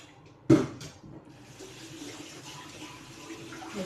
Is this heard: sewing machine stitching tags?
no